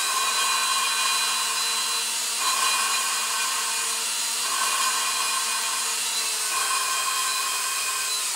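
A steady electric drill turning a homemade valve lapping tool whirs continuously at close range, its motor pitch wavering slightly as it turns, with no talking.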